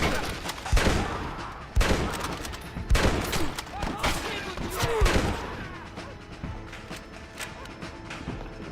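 Gunfire from the Red Dead Redemption video game: loud, close, repeated shots in uneven bursts with ringing tails, fading to scattered distant reports as the clip goes on.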